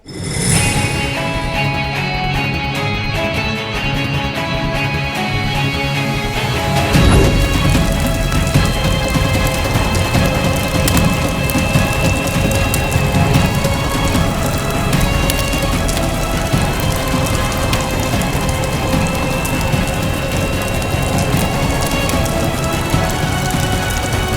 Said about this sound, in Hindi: ऋतिक, मौसम ठीक नहीं लग रहा है, तेज तूफान आने वाला है